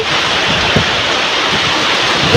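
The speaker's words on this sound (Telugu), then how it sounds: "చలిగాలి బాగా వేస్తుందండి" Cold wind blowing outdoors in a village, a loud, steady rushing roar with buffeting against the microphone and no pauses.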